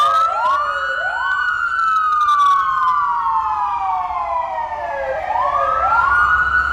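Police sirens wail loudly and close, a rising and falling electronic tone repeating in long sweeps over steady traffic rumble, with no voices.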